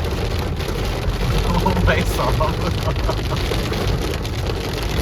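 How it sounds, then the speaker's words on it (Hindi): Heavy rain pounds a car during a night drive, with wipers sweeping against it, a dense steady roar of drumming drops that goes on throughout while someone talks over it. "इतना ज़्यादा देखो कितनी तेज़ बारिश हो रही है"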